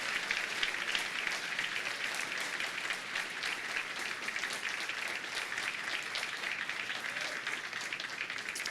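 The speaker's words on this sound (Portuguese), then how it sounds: "Você pode dar mais uma salva de palmas ao Senhor Jesus, que Ele merece." Steady, dense applause from a church congregation at a regional men's gathering, sustained and even throughout with no talk over it.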